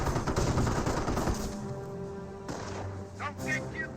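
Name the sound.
gunfire at a garrison in the video game Company of Heroes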